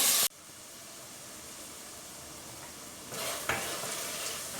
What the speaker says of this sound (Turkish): Etler pişiyor, kavruluyor burada.